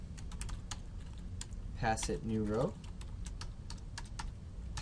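Keyboard clacks from someone coding a CodeIgniter MySQL update function, a steady patter of close key taps throughout, with a brief spoken remark in the middle.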